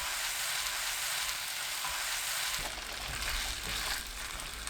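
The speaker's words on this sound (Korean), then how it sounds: "중불로 켜고 2분 볶습니다" Boiled quail eggs with seasoning being stir-fried over medium heat: a steady, hissing sizzle that thickens and grows louder partway through, close to the pan and without speech.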